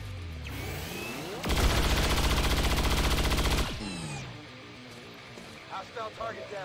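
Rapid automatic gunfire from a weapon in XCOM 2 (War of the Chosen, Long War 2 mod) roars loudly for about two seconds in one sustained burst, set among game sounds, with someone speaking briefly before and after.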